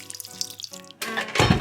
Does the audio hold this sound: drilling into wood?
no